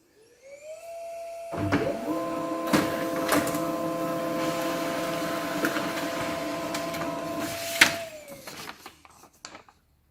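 A printer runs off a supplies information report: steady mechanical whirring with sustained motor tones, punctuated by a few clicks and clunks of paper feeding, ending with a sharp thunk and the motor winding down.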